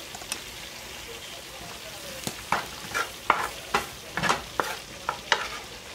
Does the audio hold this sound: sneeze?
no